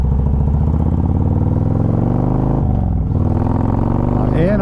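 A rebuilt Harley-Davidson motorcycle rumbles loud and steady at interstate speed with heavy low exhaust pulses, then a brief dip and a rising rev near the end.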